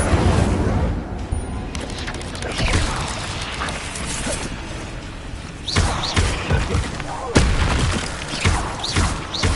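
Spellcasting combat in the video game Hogwarts Legacy, with a dense mix of whooshing bursts, thumps and booms as fire spells are cast, loud and continuous, with a voice calling out spells.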